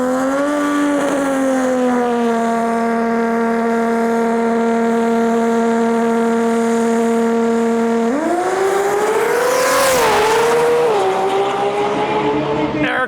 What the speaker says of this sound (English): This 2J absolutely screams.